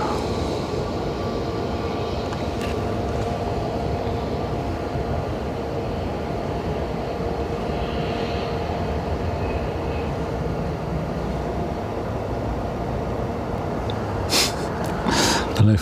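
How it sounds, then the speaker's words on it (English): An Aer Lingus Airbus A320 arriving from Milan roars steadily at Dublin airport, a broad sustained engine rumble that stays constant throughout, with a few brief clicks near the end. "Aer Lingus 320 from Milan."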